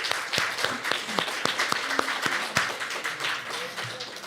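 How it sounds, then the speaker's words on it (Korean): A church congregation claps in celebration, a steady patter of many hands with a few sharp louder claps standing out, fairly close and sustained throughout. "우리 현지 양 저기 왔는데 우리 축하의 박수를 좀"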